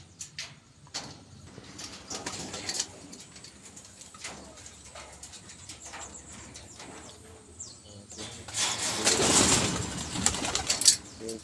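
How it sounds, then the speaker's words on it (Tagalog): Pigeons coo softly and repeatedly nearby, with a burst of wing flapping and rustling toward the end. "Yan yung mga kalapati."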